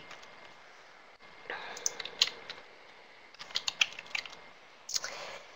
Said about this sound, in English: I'm typing the name now